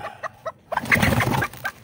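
Short, sharp clucks from a Serama bantam rooster, a few spaced calls then a busier flurry of clucking and flapping-like noise, fairly close.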